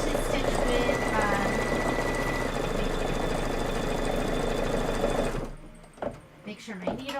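A sewing machine stitches in a fast, steady whirring run for about five seconds, then stops, leaving a few faint handling clicks and rustles.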